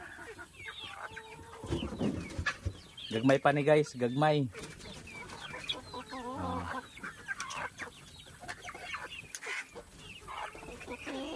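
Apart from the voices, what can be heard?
chickens clucking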